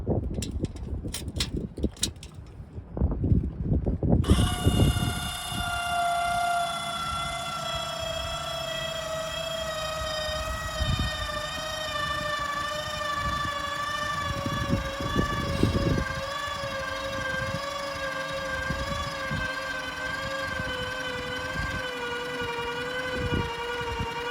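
After some brief handling knocks, an OutfitR PoleStar 5K electric trailer jack motor starts raising and whines steadily with a high, slightly wavering tone that runs on for a long stretch.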